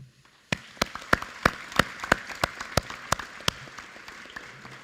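Sparse clapping from a small group at a school graduation ceremony, a dozen or so distinct sharp claps in a loose rhythm that fade out after a few seconds.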